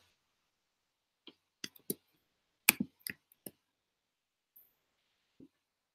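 A handful of sharp computer mouse clicks while saving changes on a wiki page, close and quiet with brief gaps between them, in an otherwise silent room.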